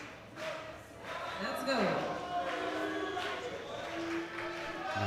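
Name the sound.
Brazilian crowd shouting in support of a powerlifter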